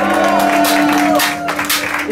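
Studio audience at a live Spanish-language afternoon variety show applauding and cheering for performers, loud sustained clapping with whoops and shouts, mixed with sustained tones and voices.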